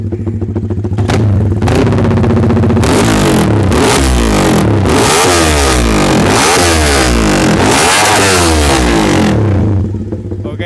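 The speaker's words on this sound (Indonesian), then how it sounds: "Coba mas geber sekali lagi sebelum maghrib." Close, loud revving of a Honda Sonic road race motorcycle built to MP5 spec: a sustained run of throttle blips and high-rpm surges that climb and drop, then settle back near the end, with no voices.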